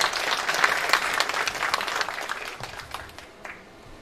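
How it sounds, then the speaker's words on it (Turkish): Audience applause at an award ceremony as a guest is called to the stage, a dense burst of clapping that is loudest at first and then thins out and fades toward the end. "alkışlarınızla sahneye davet ediyor olacağım"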